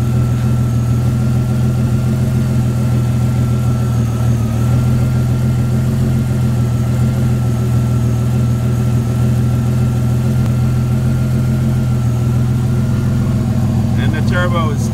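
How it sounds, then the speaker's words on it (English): A twin-turbo car engine idles with the hood open during a turbo oil return test, a loud steady low rumble with a faint whine riding over it, continuous and close throughout. "And the turbo is still spinning."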